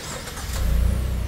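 A Mazda CX-5 Kuro AWD facelift starts up, a short low engine rumble that swells and settles into a steady idle, close and fairly loud.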